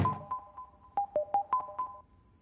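A phone ringtone plays a short tinkling melody of bright, evenly spaced electronic tones, fairly faint and alone, stopping after about two seconds.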